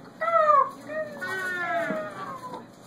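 A voice imitates bird calls in a told children's story about birds fleeing a rainforest, making a close, rising and falling squawking cluck like a chicken that comes in several wavering phrases.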